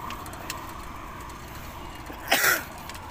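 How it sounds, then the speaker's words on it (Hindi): A single short cough from a person during a long road cycling ride, near and fairly loud, breaking through steady wind and road noise. "थोड़ा सा खांसी हो रहा है मुझे।"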